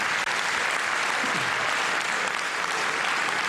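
An audience at a football club's centenary gala in Mantova bursts into sustained applause, a dense, even roar of many hands clapping that fills the room throughout.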